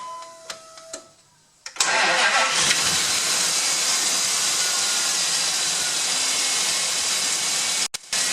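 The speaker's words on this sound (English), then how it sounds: "So I'm going to start the truck" A 2001 Dodge Dakota pickup engine cranks briefly and catches, then runs loud and steady with a bright, hissing roar that cuts off near the end.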